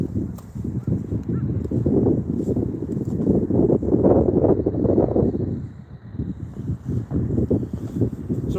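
Strong wind at Workington Docks buffets the microphone in steady rumbling gusts, rising and easing across the clip, with faint water or boat noise beneath.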